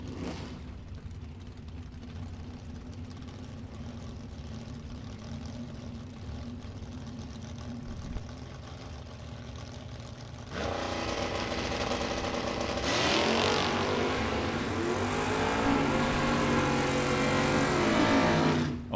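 Drag race between an 81 Cutlass and a 75 Camaro: steady low engine drone at idle, then a louder surge as the cars launch and roar away at full throttle to the end.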